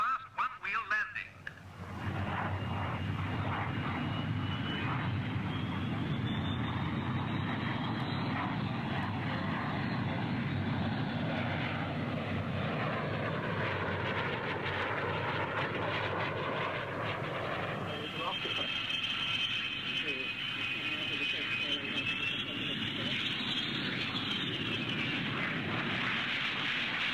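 A jet aircraft, the Italian Aermacchi MB326, performs a flying display at Farnborough 68, looping and then making a fast one-wheel landing. A loud engine roar fills the whole stretch and shifts in pitch as the plane passes, with commentary over it.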